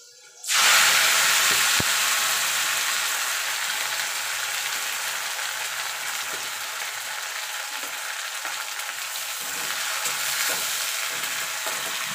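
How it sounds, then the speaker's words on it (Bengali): Oil sizzles loudly and steadily as neem leaves fry in a pan, a continuous close crackling hiss that starts abruptly and keeps going without pause. "এবার নিম পাতাটা আগে আমি ভেজে নেব।"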